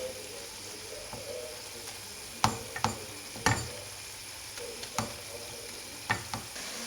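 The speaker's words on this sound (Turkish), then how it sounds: "Şimdi nane ile karıştırıyoruz." Eggs and mint being stirred in a bowl while ground meat sizzles in a pan, with a few distinct clinks and scrapes from the utensil over a steady frying hiss, fairly close.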